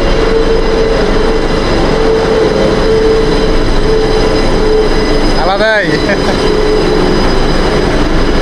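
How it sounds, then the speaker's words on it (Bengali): A Kolkata Metro train runs from Jai Hind station, a close, loud, steady rumble with a brief rising wheel squeal partway through and a short spoken word. "একই ফ্রেমে জয় হিন্দ মেট্রো স্টেশন থেকে ট্রেন ধরছি"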